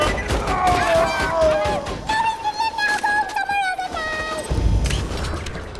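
Turret gunfire in Borderlands 2, bursts of shots and impacts amid whistling, tonal game effects, with someone talking over much of it.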